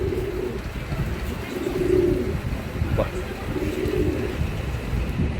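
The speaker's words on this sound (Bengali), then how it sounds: "এই যে কবুতর দেখাই দিলাম।" Pigeons coo at a pigeon seller's loft, a few soft, low throaty coos repeating at intervals under steady background noise, with someone speaking briefly.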